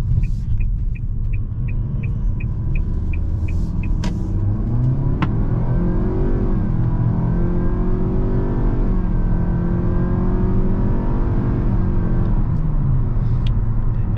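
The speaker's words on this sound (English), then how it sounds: "We're gonna go ahead and take this Altima on the highway and we'll see how it does. It is in sport mode now." A 2023 Nissan Altima with a CVT, in sport mode on the highway, gives a loud, steady low engine and road rumble from inside the cabin, with a rising tone and a short series of chimes early on.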